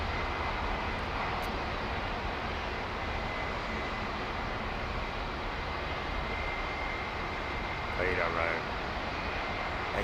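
A heavy jet departs London Heathrow Airport, its engine roar a steady, loud, broadband rumble that holds for the whole stretch with no break.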